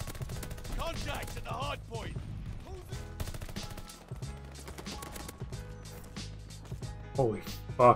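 Gunfire in a ranked shooter video game, with sharp shots and rapid bursts cracking under frequent excited talk from a player.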